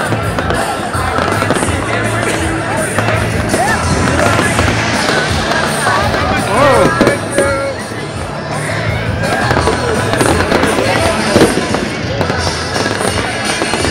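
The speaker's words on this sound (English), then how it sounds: "Fireworks show on each side." Fireworks burst on each side of a tall building, a loud dense crackle and booming that carries on without pause, with crowd chatter and a voice mixed in.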